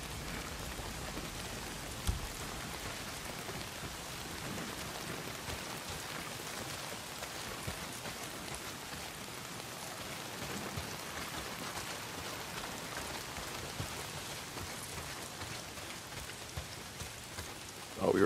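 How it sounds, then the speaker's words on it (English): Heavy rain in the open-world game Days Gone pours down steadily, a dense, constant hiss of drops on surfaces that stays loud and unbroken throughout, with no talk over it. "Well, not if it's pissing down rain."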